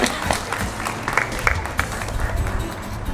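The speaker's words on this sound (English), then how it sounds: "can I please have you all stand up and give yourselves a round of applause?" Students stand and clap in a round of applause, with uneven, scattered claps and crowd noise close by, loudest in bursts around the middle.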